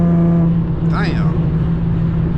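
A loud, rumbling exhaust from an Infiniti G35 fitted with Berk test pipes and a Megan Racing Y-pipe drones steadily at close range during a street race, with a short rising rev midway.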